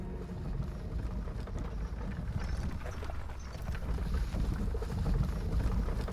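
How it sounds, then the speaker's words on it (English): Rumbling wooden cart rolling along in the action game The First Berserker: Khazan, a steady low rough drone with faint clattering, continuous and fairly close. "This is one rumbly cart."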